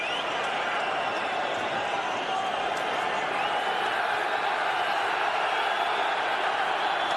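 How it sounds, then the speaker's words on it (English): Away supporters in a football stadium cheer a long-serving Monaco substitute coming on against Juventus in a Champions League match, a steady, dense crowd roar that holds at an even level throughout. "Great cheer for the long-serving Germain from the away section in the ground."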